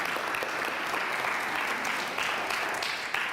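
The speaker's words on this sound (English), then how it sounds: "we can absolutely give our big donors applause" A church congregation applauds the community's big donors during a Sunday service, a continuous, moderately distant round of clapping that holds steady throughout, with no speech over it.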